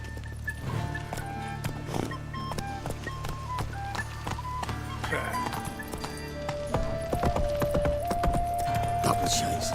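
Geralt's horse Roach in The Witcher 3 video game: steady clip-clopping hoofbeats of a galloping horse, moderately close, with background music, voices heard intermittently.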